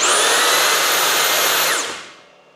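A Flex right angle drill running in turbo mode gives a loud, steady high-pitched whine for nearly two seconds, then spins down and fades, with no talking.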